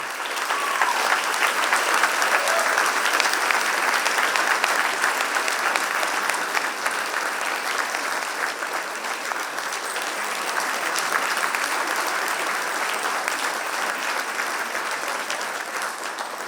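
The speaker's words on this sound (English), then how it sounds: "Ladies and gentlemen, a huge, warm round of applause." Sustained applause from an awards ceremony audience honouring a wildlife conservation award winner, steady and full for over fifteen seconds with no pause, a dense wash of many hands clapping at even loudness.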